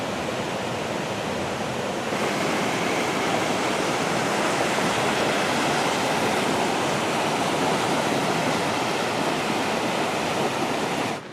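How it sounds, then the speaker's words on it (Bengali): Devkund waterfall in Odisha roars steadily below, a loud, continuous broadband rush of heavy water that swells slightly after the first two seconds and holds without a break. "এইটা হচ্ছে ঝর্ণার শব্দ। মানে জল যে কতটা বিপদসীমার ওপর দিয়ে বইছে এখানে নিচে"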